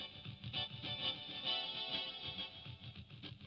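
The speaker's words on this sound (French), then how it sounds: "L'envoi du Master 2 apporte plus d'effet chorus." Notes from a Korg Pa700 arranger keyboard with the Master 2 chorus send raised, producing a shimmering, gently wavering tone in a steady, moderately loud passage with no voices.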